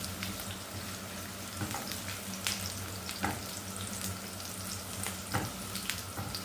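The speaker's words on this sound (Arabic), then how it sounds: "هقلب بقى فيها لحد ما البصلة تدبل خالص معايا." Onion frying in a pan while being stirred, a soft continuous sizzle broken by scraping stir strokes and small clinks, close and fairly quiet with no voices.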